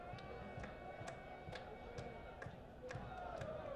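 A soccer crowd at Regal Stadium cheers steadily in the background of a Knoxville SC versus Union Omaha match, a faint continuous roar with sharp claps or thumps recurring at regular intervals.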